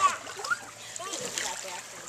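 Water splashes lightly in a pool as someone treads water, with soft irregular sloshes under nearby voices.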